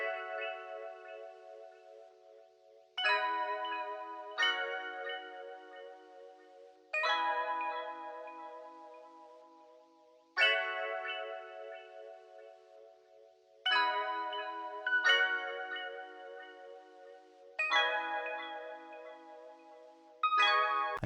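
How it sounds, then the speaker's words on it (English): A Stage 73 electric piano layered with Mellotron-like bell keys plays sustained chords with bright bell overtones. Six or seven chord changes each ring and slowly decay, alone and without voices. "I used this stage 73 electric piano called the Precipitation Report EP, and I layered that with a Mellotron like bell keys"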